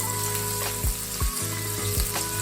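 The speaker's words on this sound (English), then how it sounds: "Fry the prawns for 2 to 3 minutes on each side." Prawns frying in hot oil in a frying pan, a steady close sizzle with a few soft clicks and stirring sounds.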